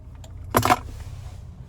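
A 2021 Nissan Kicks SR key fob with remote start is handled, giving a brief close jingle of keys and plastic around the middle of an otherwise quiet moment.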